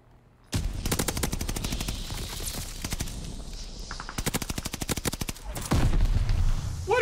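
Owen submachine gun fire in Call of Duty: Vanguard: loud, rapid automatic bursts rattle out close by in long continuous strings, with brief gaps between volleys.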